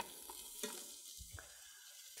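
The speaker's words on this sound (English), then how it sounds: "and you can hear the sizzle." Big mushrooms sizzling in hot oil in a Ninja Foodi as a steakhouse ribeye dinner is prepared, a brief fizzing burst with a couple of soft clanks, quiet and close.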